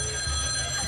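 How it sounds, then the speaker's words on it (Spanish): A telephone rings during a Spanish stage comedy, a sustained electronic bell tone held steadily for the whole moment over a low room rumble, with no voices. "En ese momento suena el teléfono"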